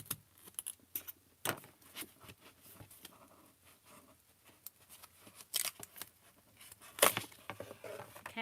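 Scissors snip and crunch through a cereal box cover being cut down for a junk journal, irregular close cuts and rustles of the cardboard with brief louder crackles and no talking.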